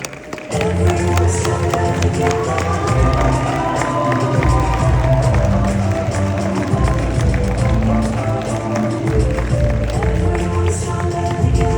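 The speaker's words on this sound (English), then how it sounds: "let's give a big round of applause to Catherine" Audience applause and cheering for Catherine Longley, introduced as a speaker on lead generation at a conference: loud, sustained clapping and crowd noise with music-like tones running underneath throughout.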